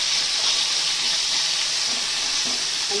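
Chopped tomatoes with onion, dried and green chillies, garlic and a little ginger fry in a pan for a restaurant-style paneer dish, giving a steady, close hiss of sizzling oil with no talk.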